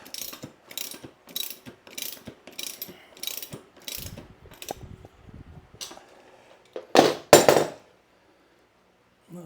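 A 16mm spanner ratchets repeatedly while tightening the wheel spindle on a Royal Enfield Interceptor 650, a quick series of close metallic clicks, then a louder clunk near the end before it falls silent.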